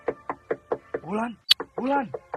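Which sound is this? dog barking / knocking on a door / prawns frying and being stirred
knocking on a door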